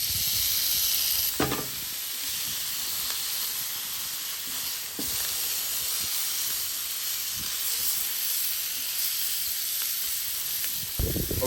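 Frozen Clover Valley burger patties sizzle on a Blackstone griddle with a constant bright hiss and crackle. A few soft knocks and clinks from handling come through near the start and end.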